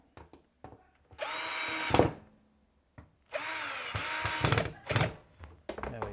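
A power drill drives Phillips head screws back into a Fisher & Paykel appliance door: two long whirring runs, each rising in pitch, with short clicks and handling knocks between them, close up.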